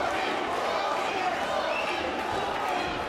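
Dense boxing crowd noise at a bare knuckle fight, a steady loud roar of many voices with a chanting quality that never lets up.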